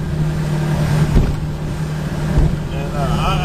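A 1986 Starcraft 16-foot aluminum V-bottom boat runs its outboard motor at about 2,500 RPM, a steady close drone mixed with wind buffeting on the microphone and water slaps throughout.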